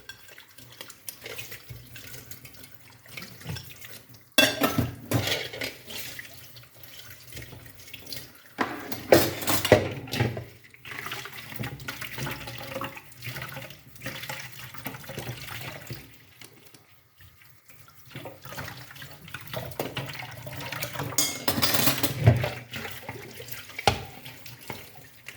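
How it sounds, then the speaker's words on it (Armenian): Tap water runs into a kitchen sink while two bowls are washed by hand, with splashing, intermittent gushes and occasional clinks of dishes and cutlery, close by and without talk. "այս երկու ամաններն էլ լվանամ"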